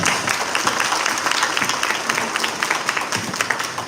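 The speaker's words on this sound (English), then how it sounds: "Let's give them a nice round of applause." Congregation at a Garifuna Settlement Day Mass in Los Angeles giving visiting guests a warm round of applause, close dense clapping sustained evenly throughout.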